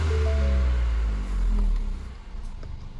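The engine of a Ford Fiesta ST 200 Mk8 runs with a deep, steady low hum close by, easing slightly in loudness toward the end.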